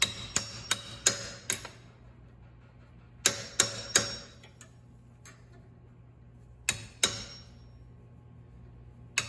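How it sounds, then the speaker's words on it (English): Hammer blows on a socket driving a solid steering rack bushing into a Lexus IS300, sharp metallic strikes coming in quick clusters of four or five and then in pairs, close and loud over a steady low hum. "just using a hammer and a socket"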